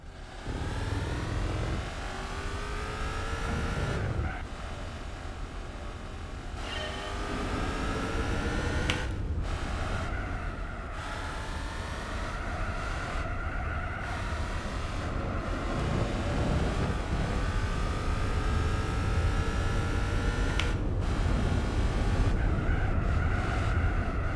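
An Audi racing in Gran Turismo 4, its engine droning and rising through gears with sustained revving pitch sweeps, continuous and loud for the whole stretch with brief shifts and dips between climbs.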